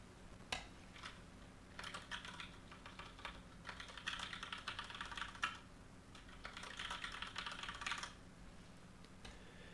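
Password being typed on a computer keyboard, quiet bursts of rapid key clicks separated by short pauses, close and faint.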